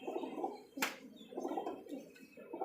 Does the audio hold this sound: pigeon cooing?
yes